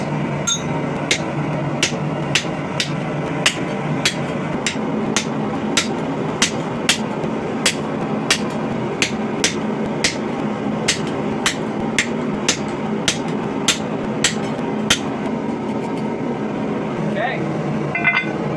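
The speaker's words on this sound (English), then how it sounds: "I'm going to take my curved chisel and I'm just going to make some decorative lining around the outside to mark off the edges" A curved chisel is hammered along the edge of a forged steel candy dish, giving steady, evenly spaced sharp metallic strikes about once a second, close and loud, over a continuous forge or workshop hum.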